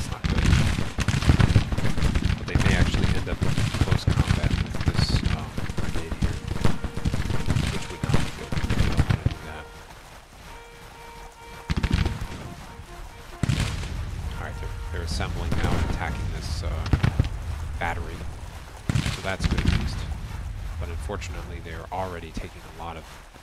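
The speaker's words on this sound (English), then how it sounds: "This looks like uh, a canister fire." Canister artillery fire in Grand Tactician: The Civil War, dense booming and crackling volleys rolling in bursts with brief lulls, loud and continuous, with someone talking over much of it.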